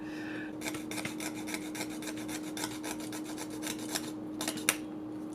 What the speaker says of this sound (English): Jeweler saws are pretty nifty.